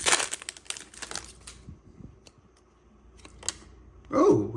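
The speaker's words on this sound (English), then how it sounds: "let's rip into some packs and see what we can get" Topps 2024 Series 1 baseball card blaster packs are torn open nearby, with bursts of foil crinkling and ripping, a quiet pause, then a louder crumple at the end.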